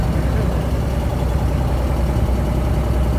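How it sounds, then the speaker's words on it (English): A small, basic diesel engine on a boat on Dubai Creek runs at a steady idle, a close, continuous low rumble with an even mechanical chug and no voices over it. "Here's a little diesel engine, pretty basic"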